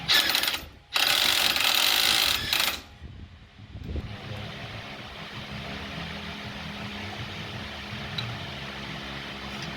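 A ratchet wrench clicks rapidly and loudly while seating a part during a 2-inch Formula lift kit install on a Baby Cummins truck, stopping abruptly, then giving way to a steady mechanical background hum.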